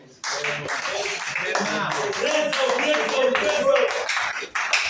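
Congregation clapping at a baptism service, a dense burst of hand claps starting abruptly and continuing steadily before fading, with people talking and calling out over the applause.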